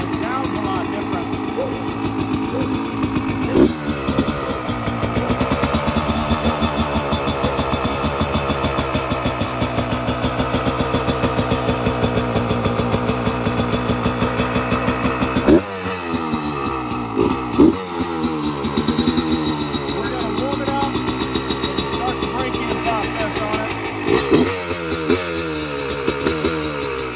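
A 2020 Yamaha YZ125X two-stroke dirt bike engine revving repeatedly, loud and close, with rising and falling throttle blips and a brief drop to idle partway through.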